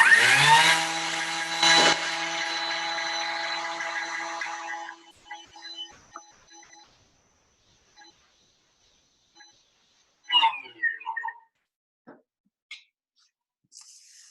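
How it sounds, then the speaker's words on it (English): A Thermomix runs at speed 10 milling white sugar: a loud, high-pitched whirring roar that holds for about five seconds and then cuts off, followed by a few light clatters and knocks in near silence. "we're just going to mill this for 10 seconds on speed 10"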